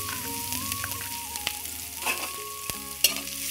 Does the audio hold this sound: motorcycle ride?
no